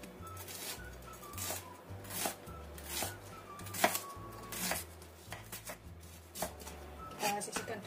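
A knife chops a quarter of a brown onion into long strips on a board, a steady series of close, crisp cuts with background music underneath.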